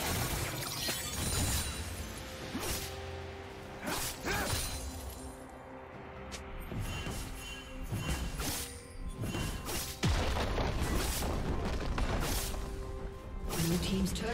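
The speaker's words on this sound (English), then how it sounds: "Blue team's turret has been destroyed." Turret destruction in League of Legends, heavy smashing crashes and shattering impacts that recur several times amid whooshing effects and a steady background of game music.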